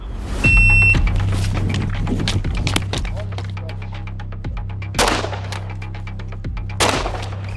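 Pistol and rifle fire at a tactical shooting competition: sharp, loud shots ring out at irregular intervals against steady background noise.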